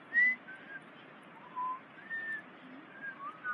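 A person whistles a series of short, varied tones with gaps between them, imitating heard whistles, quiet and close with no talking.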